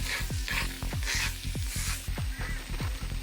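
Tater tots and vegetables frying on an Ignik Skullet cast iron skillet, a loud close sizzle with a quick run of rhythmic scraping strokes as a spatula pushes and mixes the food.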